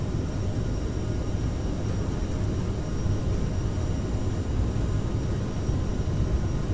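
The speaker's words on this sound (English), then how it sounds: "Okay, thrust up to toga." A steady, loud roar from CRJ7 jet engines at takeoff thrust in a flight simulator holds level throughout, with no voices.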